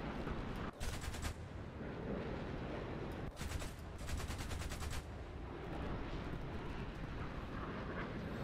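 Rapid aircraft cannon bursts in an air combat video game, three short loud rattling strings of shots over steady engine drone, with no talking.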